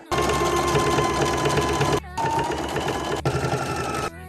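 A sewing machine stitches bodice pieces in three loud, close bursts of steady whirring, each stopping abruptly with brief pauses between.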